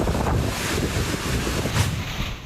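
Strong typhoon wind from Typhoon Nika in Aurora roars as a steady, loud broadband rush, with gusts swelling briefly and buffeting the microphone throughout.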